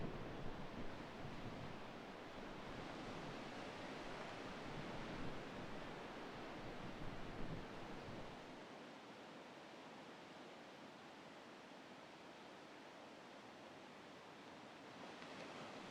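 Surf and wind blowing against the beach cliffs at Crystal Cove, a faint, steady wash of noise that thins and quiets about halfway through, with no voices.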